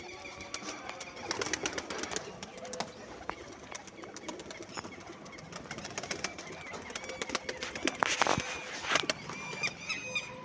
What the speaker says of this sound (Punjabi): ਕਬੂਤਰਾਂ ਦੇ ਉੱਡਦਿਆਂ ਦੀ ਵੀਡੀਓ